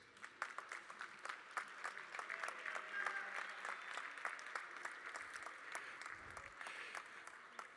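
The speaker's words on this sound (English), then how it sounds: "give them a big old round of applause, please" A school awards assembly audience gives a round of applause, steady rapid clapping from many people spread through the hall, moderately loud and continuous for several seconds with a faint murmur of voices underneath.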